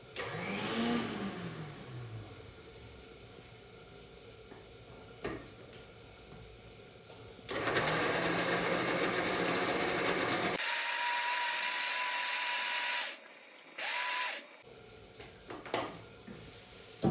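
Mixer grinder blending garlic and tomato chutney ingredients with a little soup, starting with clatter and handling noise, then a loud sustained whirring grind that cuts off, followed by a short second burst and a few knocks.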